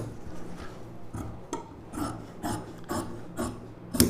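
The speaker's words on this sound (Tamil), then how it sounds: "இப்போ வந்து இந்த ஷேப் அளவுக்கு அப்படியே கட் பண்ணிக்கலாம்." Scissors snip through blouse fabric along a marked shape, with a steady series of crisp cutting strokes about twice a second, close and moderately quiet, with no voices.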